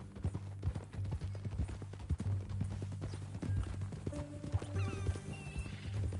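Horse hooves clip-clop steadily in the video game Red Dead Redemption 2, a close, regular rhythm of hoofbeats over a low ambient hum, with a brief whinny and faint game music near the end.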